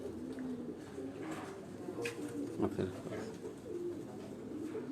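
Breeder pigeons coo softly from a rooftop loft, low murmuring calls repeating through steady background noise, with faint voices now and then.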